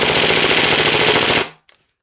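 An EMG CYMA Noveske N4 airsoft rifle fires on full auto, a loud, rapid, continuous burst of about one and a half seconds that stops abruptly, followed by a faint click.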